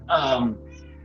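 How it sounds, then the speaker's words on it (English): A house cat lets out a single clear, fairly close meow that rises and then falls over about half a second, with a faint hum in the background. "Was that somebody's cat?"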